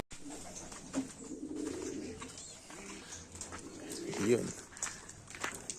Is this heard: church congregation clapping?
no